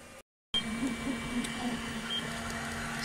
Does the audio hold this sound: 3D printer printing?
yes